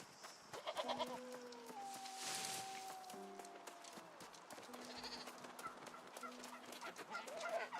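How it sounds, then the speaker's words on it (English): A ram in the video game New World gives drawn-out, wavering bleats. Other farm-animal calls and soft ambient noise sit around it, fairly close. "You dusty old ram."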